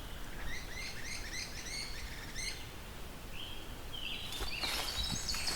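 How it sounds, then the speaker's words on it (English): Great crested flycatchers call in a wet forest with skunk cabbage on the floor, giving repeated bright, rising whistled notes, followed later by a harsher burst, all over a steady hiss of background ambience. "Oh no, gray-crested flycatchers. That's what makes that sound."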